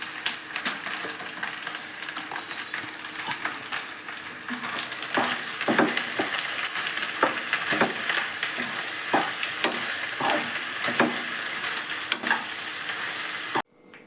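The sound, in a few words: stirring spicy veg pasta with seasoning packet in pan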